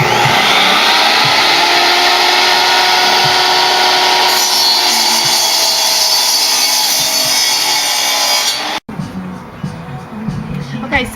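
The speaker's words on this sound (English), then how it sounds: "I'm cutting the 2x4s now." Power saw cutting 2x4 boards for a raised bed garden frame, a loud continuous whining buzz through the wood that runs for about nine seconds, then stops abruptly, leaving quieter handling noises and rustling.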